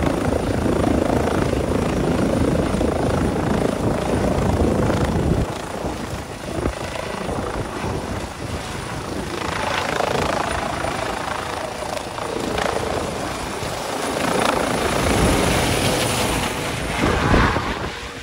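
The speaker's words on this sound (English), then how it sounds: "This helicopter taking off and then passing by low." A helicopter's rotor thumps and engine roar build loudly as it lifts off, then sweep past close and low, staying heavy and continuous throughout.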